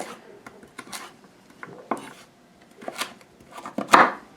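A knife dices beef on a cutting board in scattered sharp chops and taps, irregularly spaced, with a louder knock near the end.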